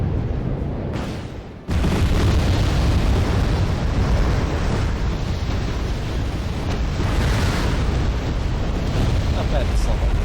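Heavy bombing explosions in the wartime strategy game Wargame: Red Dragon, a loud sustained roar of booms and rumbling blasts filling the scene after a brief quieter moment near the start.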